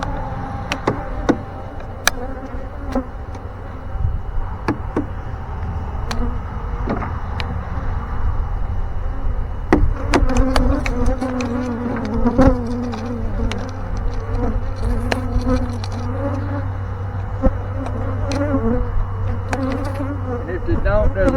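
Dense, steady buzzing of a honey bee swarm being installed into a hive, filling the whole stretch, with occasional louder bees passing close by.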